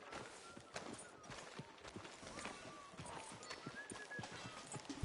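Horse hooves clip-clopping at a walking pace in Red Dead Redemption 2, a quiet steady rhythm of soft hoofbeats over low background ambience, with brief speech-like sounds here and there.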